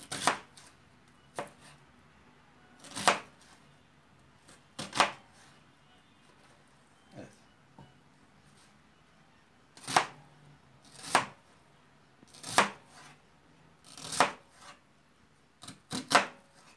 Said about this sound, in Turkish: İri iri doğruyoruz.